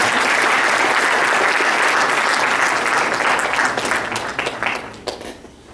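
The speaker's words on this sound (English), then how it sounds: "A big round of applause for Dr." Conference audience applauding after a plenary session on hyperloop transport in India, a dense, steady wash of many hands that thins and trails off into scattered claps near the end.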